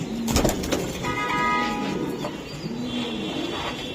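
Racing pigeons cooing, low soft rolling coos repeating close by amid a busy background with a brief tonal chirp or whistle.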